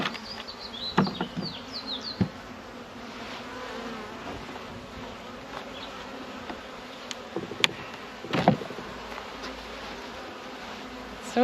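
Honeybees hum steadily from an opened beehive during a late-February first check of the season, a continuous close buzz broken by a few louder passes and faint clicks of hive frames.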